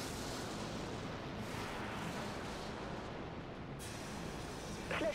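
Enemy missiles strike a ship in the space combat game DreadNought, producing a continuous rumbling barrage of dull booms and blasts, with a sharper burst near the end.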